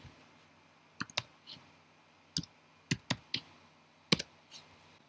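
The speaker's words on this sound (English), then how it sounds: "If you know the angle you want, you can just type it in." Keys are tapped on a computer keyboard in a quiet room: a few sparse, crisp clicks come in small clusters over a few seconds, with no talking.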